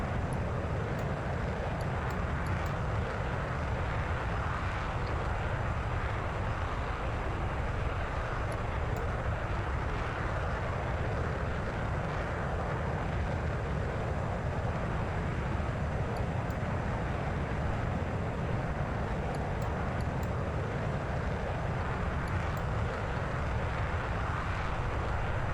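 Steady broadband roar of a jet aircraft landing in the DCS flight simulator, a continuous engine and wind rush held at constant loudness throughout with no voices.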